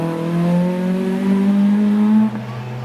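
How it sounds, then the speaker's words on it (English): A BMW 318i rally car races up a hillclimb at night, its engine note holding high and steady and climbing in pitch as it drives through a bend, then cutting off sharply near the end. "Charles Stapleton in the BMW 318i heads around Ettores."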